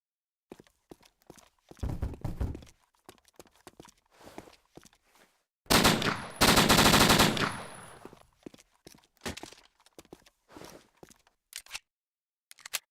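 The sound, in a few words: modified gunfire sounds in No More Room in Hell video game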